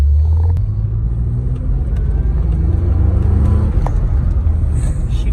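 A Lotus Carlton saloon accelerating on the road, heard from inside as a steady, deep engine rumble that builds gently under light throttle without a hard rev.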